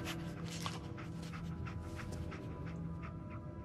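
A dog pants in Fallout 4, quick rhythmic breaths repeating softly and steadily over a low ambient game background.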